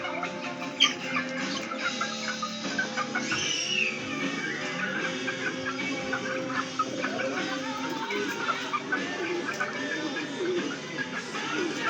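Young chicks kept outdoors after a storm cluck and peep continuously at moderate distance, a busy overlapping chatter of small birds with occasional louder calls.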